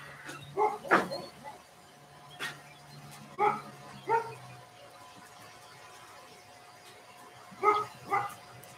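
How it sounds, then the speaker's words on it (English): A dog barks at a neighbor outdoors in short clusters of two or three barks separated by pauses, moderately distant, with a steady hum underneath. "Dog barking at my neighbor."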